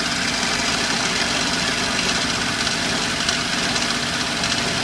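A Daihatsu Hijet truck engine idles steadily close by with a constant whine and a light ticking rattle underneath, no voices.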